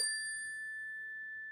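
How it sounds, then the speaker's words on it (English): A small handheld instrument gives a single bright bell-like ding at a rehearsal, with a clear sustained tone that rings on and slowly fades, heard alone. "this little instrument that makes a beautiful bell-like ding"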